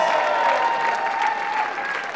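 An audience applauds a performing act at the Pan Celtic International Song Contest, a dense, steady wash of loud clapping that holds throughout with no break.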